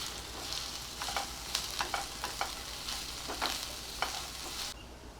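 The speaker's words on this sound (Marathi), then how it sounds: "कांदा आपल्याला छान लालसर होईपर्यंत परतून घ्यायचा आहे" Onion sautéing in a pan until reddish, a steady hiss of frying with frequent quick spatula scrapes and taps, close and moderately quiet, no one speaking.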